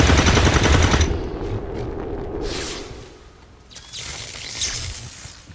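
A rapid burst of automatic gunfire in the XCOM 2 video game, loud and close, then fades into a rumbling, echoing tail and scattered impact noises.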